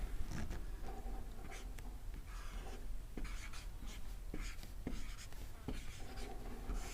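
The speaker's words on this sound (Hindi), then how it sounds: "तो हम पहले टॉपिक को यहाँ पे लिखते हैं" Chalk or marker scratches on a classroom board as a Class 10 physics lesson topic is written, in quick irregular strokes and taps that run steadily throughout with no talking.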